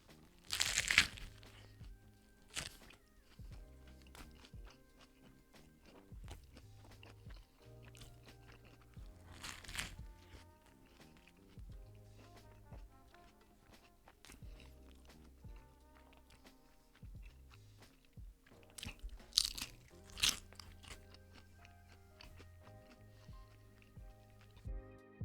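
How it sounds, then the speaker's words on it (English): Someone bites into and chews an A&W Ruffles Crunch Teen Burger topped with cheddar and sour cream chips, creamy garlic and jalapeno aioli: a few loud, close crunches followed by quieter, irregular chewing with brief pauses, and no talking. "we're gonna try and do a crunch test to see how crunchy it is"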